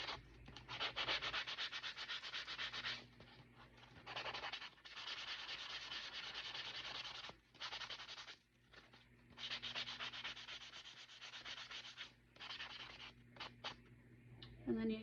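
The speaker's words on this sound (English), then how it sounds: "I like these sanding blocks because you can really just get in there." A sanding block rubbing back and forth across a glitter sheet, close and dry, in long rasping strokes separated by short pauses, with no talking.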